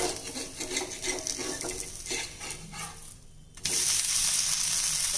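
A toor dal dosa cooks in a pan over a medium flame, giving a continuous close sizzle with light scraping and clicks, which briefly quiets and then returns louder and steadier.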